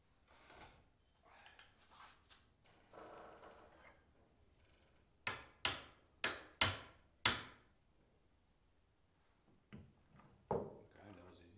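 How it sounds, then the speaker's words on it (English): A bolt hammered into a wooden baby gym: after some quiet speech and handling, five sharp ringing knocks land in quick succession, followed by a few softer taps. "I think I can just smash a bolt in."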